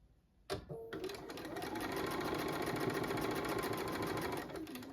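A sewing machine fitted with a quarter-inch foot stitches a seam through quilt fabric, starting with a sharp click and then whirring steadily and evenly at close range.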